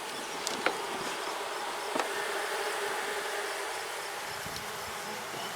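Bees swarm around an open beehive in May, making a dense, continuous buzz close by with a few louder passes as individual insects fly near.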